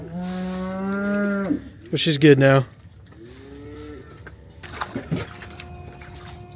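A heifer on a farm lets out a long, low moo, then a shorter, rougher call and a softer third moo, close by, with a person briefly speaking between calls.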